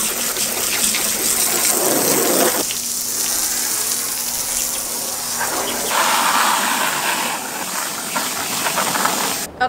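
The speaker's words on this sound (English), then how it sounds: "now we're just wetting it, getting it rinsed down" Hose water sprays and hisses steadily against the roof and sides of an Airstream Flying Cloud 23FB travel trailer while it is rinsed down, the rushing spray changing tone as the stream shifts across the aluminium surface.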